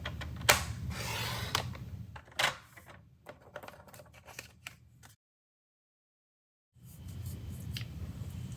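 Paper trimmer blade sliding along and cutting a cardstock panel for a handmade card: a run of crisp close ticks and scraping clicks, then a brief silence and a quieter rustle.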